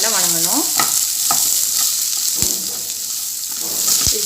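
Sliced onions frying in hot oil for mint chutney, a continuous sizzle with the scrape and clink of a spoon stirring the pan at a few points, close and alone without talk.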